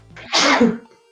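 A single loud sneeze, a sharp intake followed by an explosive burst, close by with no talking.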